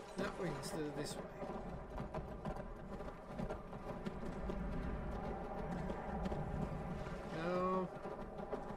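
Horse hooves clip-clop in a steady rhythm in the video game Skyrim over a constant ambient hum, with voices talking underneath and a horse whinnying near the end.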